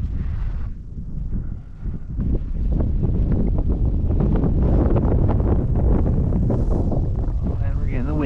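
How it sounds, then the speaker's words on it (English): Wind gusts batter the microphone outdoors during a fly-fishing outing, a heavy roaring rumble that builds after a brief lull and stays loud and turbulent. "And we're getting the wind gusts."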